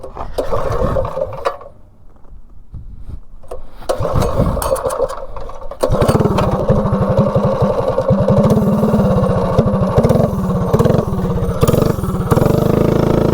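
A propane-powered mini bike engine, running low on propane pressure, sputters, then catches and runs with a steady, buzzy rattle, loud and close up, revving slightly as it keeps going.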